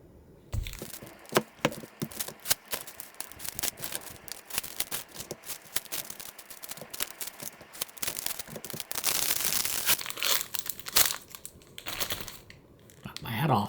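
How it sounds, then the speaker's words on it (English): Packing tape being peeled and torn off a cardboard package of graphic novels, with crackling, crinkling rips and rustling handling noises, close and intermittent, swelling into a louder sustained tearing stretch partway through. "be right back after I get the last of this tape off."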